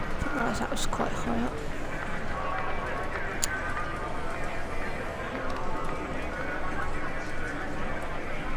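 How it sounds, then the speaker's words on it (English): Galloping horses in a virtual horse racing game give a continuous, dense drumming of hooves at an even pace, with a brief whinny, under steady talk throughout. "It's virtual cloud-based horse racing."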